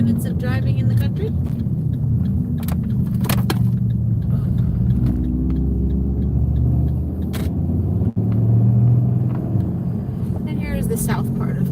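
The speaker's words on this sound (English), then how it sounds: "Stick around for the last 10 minutes of driving in the country." A car drives along a country road, its engine and tyre rumble low and steady throughout from inside the cabin, with a voice talking over the drone.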